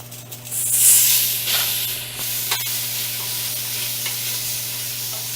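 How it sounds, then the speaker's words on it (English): Noodles stirred in a pot with bacon grease, a loud steady sizzle and hiss with soft scraping, a brief burst of steam near the start, close and unvoiced over a low hum. "And just go ahead and give them a nice little stir."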